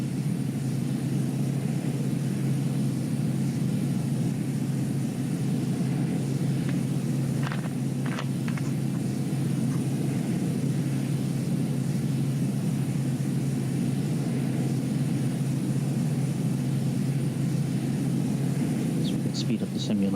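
A Piper M500 Malibu Meridian turboprop in Microsoft Flight Simulator 2020 in cruise, its engine a steady low droning rumble with a faint higher whine, continuous and even throughout, with a couple of brief faint clicks.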